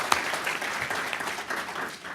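Audience applause at an academic comics forum keynote, a steady wash of clapping from a seated crowd that holds for a couple of seconds and tapers slightly at the end.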